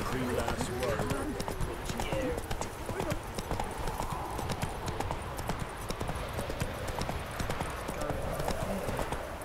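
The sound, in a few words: horse Roach's hooves clip-clopping in The Witcher video game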